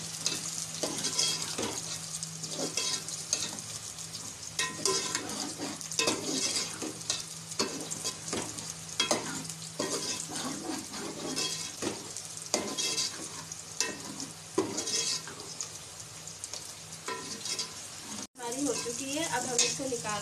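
Tomato cooking down with browned masala in a pan for anday cholay gives a steady close sizzle and frying hiss, broken by the scrape and clatter of stirring and a short pause near the end.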